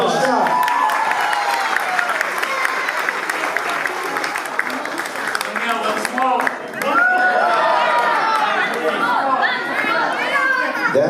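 Audience applause and cheering fill the air after a dance performance at an engagement celebration, steady and close throughout, with crowd chatter and children's voices mixed in.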